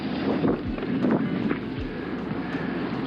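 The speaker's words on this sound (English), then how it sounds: "Wind's picking up nicely. We'll soon be sailing." Wind roars across a sailboat heading out to sea on a solo passage from Australia toward Indonesia, a steady rushing gust with buffeting thumps on the microphone and no voices.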